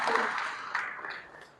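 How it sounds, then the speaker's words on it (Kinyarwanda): An audience at a church gathering applauding a woman, a short burst of scattered clapping that fades quickly beneath a speaker's voice. "mumuha amashyi ariko mutayamusondeka."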